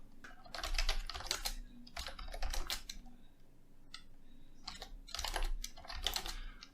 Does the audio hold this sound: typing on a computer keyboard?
yes